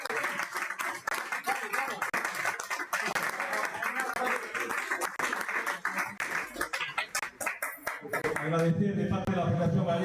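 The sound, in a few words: audience applause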